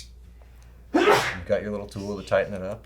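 A single sharp sneeze bursts out near the start of a person's speech, followed by continued talking.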